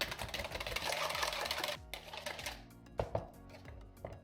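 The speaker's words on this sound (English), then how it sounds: "all you got to do is whisk it." A whisk beats pancake batter made with cinnamon and nutmeg in a bowl, giving fast, dense, close rattling for about two seconds, then slower scattered clinks and taps.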